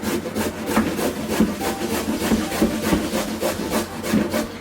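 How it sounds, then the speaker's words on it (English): An onion grated on a kitchen grater while making tuna salad, giving steady rhythmic rasping strokes about three per second, close and fairly loud with no talking. "That way I slowly but surely move the onion in and clean out"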